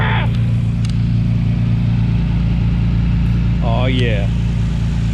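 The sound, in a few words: Nissan RB26 engine running in a 300ZX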